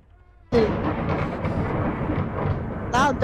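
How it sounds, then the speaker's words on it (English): Loud thunder in the horror video game Nun Massacre, a sudden deep crack followed by a sustained rolling rumble, with a voice speaking briefly near the end. "Loud thunder."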